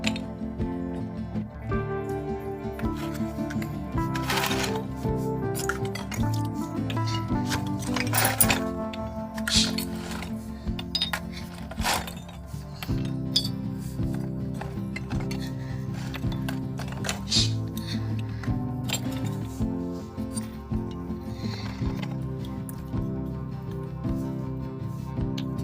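Clay diya lamps washed under a tap, scattered clinks and knocks of earthenware against each other with splashing and dripping water, steady and close throughout.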